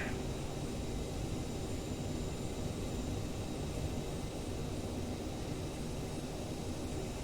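A CRJ900 airliner rolls along the runway in Winnipeg just after landing, a steady broadband cabin roar with low rumble holding even and constant throughout, no voices present.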